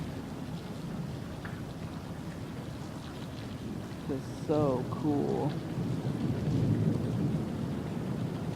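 A monsoon thunderstorm brings continuous rain with low rumbling thunder throughout, while a person briefly speaks over the downpour.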